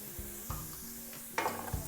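Raisins fry in oil alongside carrots in a pan as a faint, soft sizzle runs under a few scraping stirs and light clinks of the spoon against the pan.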